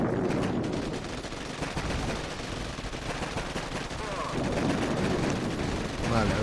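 Dense, continuous gunfire from defensive emplacements in the mobile strategy game Boom Beach, a steady loud barrage of overlapping shots and blasts that runs the whole way without pause.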